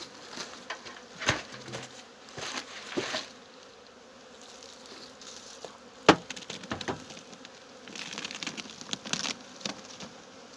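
Honeybees hum in a low, steady drone close by at an opened, weak four-frame hive during a late-October check, interrupted by scattered clicks and knocks of frames being handled.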